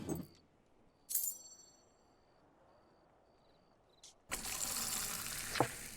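Beer poured into a pint glass in the video game Fable II, a sustained frothy pouring rush arriving late after brief chime-like game tones and near silence.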